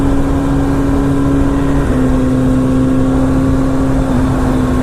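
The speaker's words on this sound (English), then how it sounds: "this is a pure race bike" A Yamaha R1 race motorcycle engine holds a steady, loud drone during a test ride, its pitch dipping slightly partway through, with continuous wind and road rush around it and no talk.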